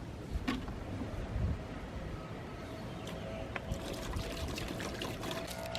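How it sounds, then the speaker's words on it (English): Vinegar poured into a crate during a maul restoration, a soft, steady liquid trickle and splash at close range with faint outdoor background noise and no talking. "I'm gonna finish pouring the vinegar in it."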